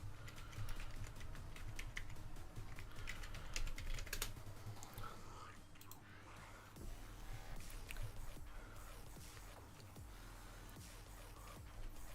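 Rapid clicking keystrokes on a computer keyboard during a Minecraft session, dense and continuous over a low steady hum, fairly close and moderately loud.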